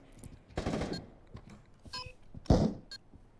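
Gunfire in a VR shooter match, with a few sharp, separate shots and clicks at moderate distance. The mix is otherwise fairly quiet.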